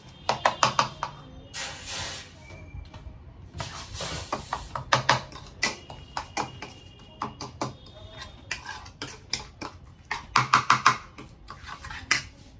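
A metal ladle knocks and scrapes around a pot while hot oil is mixed into food, repeated clanking strokes in uneven bursts, close and clear, with faint voices in the background.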